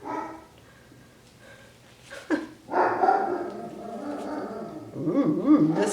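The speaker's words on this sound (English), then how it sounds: "I have a German Shepherd. She barks at everything under the sun." A German Shepherd barking indoors at a fluid art painting session: a few faint sounds early, then several loud, close barks and whimpering yips in an irregular burst over the second half.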